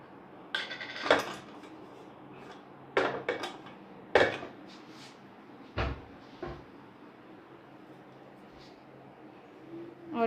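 Metal stand set inside an idli cooker on a low gas flame: a few sharp clanks and knocks of metal against metal, close and clear, spaced irregularly over a quiet kitchen background.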